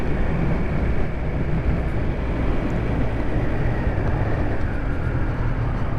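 A 2023 Triumph Speed Triple RS motorcycle riding along, its engine and wind roar forming a continuous loud rumble throughout, with no clear breaks for gear shifts.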